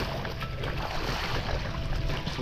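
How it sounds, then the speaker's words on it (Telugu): A boat moves across water, with a constant loud rush of engine and splashing water that drowns out any other sound. "ఇది బోటు"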